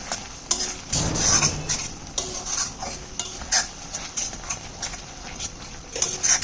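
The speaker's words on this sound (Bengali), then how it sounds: "ভালো করে সাঁতলে নিচ্ছি, ভালো করে ভেজে নিচ্ছি" Soybean korma with chilli powder, salt and dried red chilli sautéing in a pan: a steady oily sizzle with repeated scraping and clinking stirs of a spoon against the metal, close and fairly loud, no talking.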